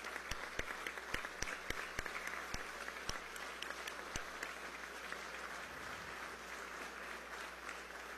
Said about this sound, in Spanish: para quien pido todos los aplausos